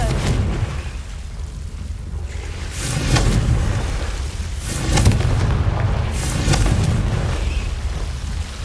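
A Confringo fire spell from Hogwarts Legacy bursts with deep booming blasts, three swelling waves of rumbling explosion and crackle spread across the clip, loud and close with no talk.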